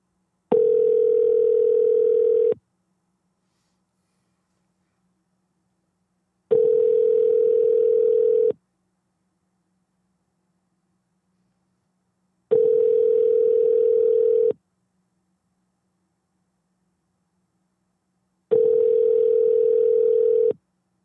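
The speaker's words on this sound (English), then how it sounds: "Press 3." A steady telephone tone sounds in four evenly spaced bursts about two seconds long, each followed by about four seconds of silence, clear and close with no voices over it.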